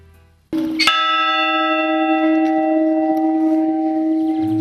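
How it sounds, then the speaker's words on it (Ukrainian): A large church bell over a city is struck once after a short low rumble, then rings out with a long, loud, sustained hum that keeps resonating. "Лунають дзвони над містом."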